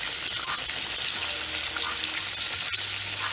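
Pork chops fry in a pan, giving a steady, dense sizzle that stays loud and even throughout with no break and no voices.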